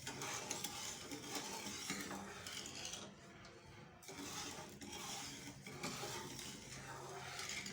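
Lemon and small cardamom seeds mixed into a jalebi batter in a bowl, quiet repeated stirring and scraping sounds close by, soft and continuous with a brief pause midway, no talk.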